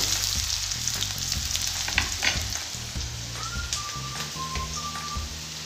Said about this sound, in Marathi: त्याच्यानंतर कांदा व्यवस्थित परतून घ्यायचं